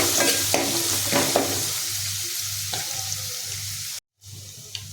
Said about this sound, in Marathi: तर आपण डाळीची फोडणी देऊया